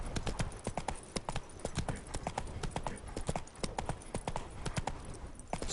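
Roach, a horse in the video game The Witcher 3, gallops in a fast, even rhythm of crisp hoofbeats, close and steady throughout with little else over it.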